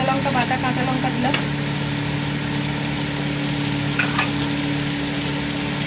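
Green chili paste fries and is stirred in a pan for a malai pyaz sabji, giving a steady, close sizzle with scraping stir strokes and a low hum underneath throughout.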